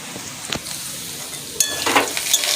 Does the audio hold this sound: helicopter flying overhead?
no